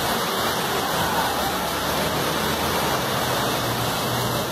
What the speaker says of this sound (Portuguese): Eita, mas é chuva.